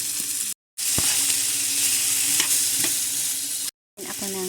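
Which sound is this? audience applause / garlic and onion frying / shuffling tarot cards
garlic and onion frying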